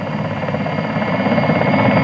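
A Mi-26 Halo, the large Soviet twin-turboshaft helicopter, flies by with a loud, steady rotor and turbine roar, heard alone.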